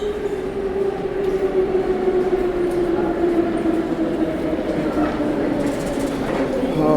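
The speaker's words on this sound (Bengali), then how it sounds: "আচ্ছা মেট্রোটা পাস করি" A Moscow metro train runs loud and steady throughout, a sustained rumble with a droning whine that shifts slightly in pitch, heard close from the platform during the busy evening rush.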